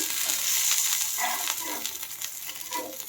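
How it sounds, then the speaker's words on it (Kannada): Spine gourd slices shallow frying in a pan, a soft sizzling hiss with a few light scrapes as pieces are turned, fairly quiet and without speech. "ನೋಡಿ ಈ ರೀತಿ ಫ್ರೈ ಮಾಡಿ"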